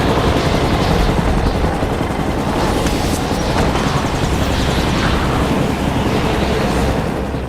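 Helicopter with its back ramp lowered, a loud continuous rotor and engine roar filling the whole stretch with dense broadband noise and steady intensity, no voices.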